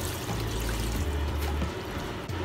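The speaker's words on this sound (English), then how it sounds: "I will pour cold water to help cool it down." Cold water poured over freshly cooked abacha (shredded cassava, keto cabbage version) in a kitchen, a steady continuous splashing pour with a low rushing stream, loud and close, with no talking.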